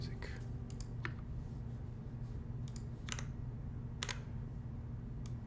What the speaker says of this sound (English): this is the first typing test on this channel of the iNETT Square X